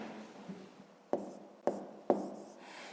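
A pen writes by hand on paper, with faint continuous scratching broken by three sharp taps or strokes close by.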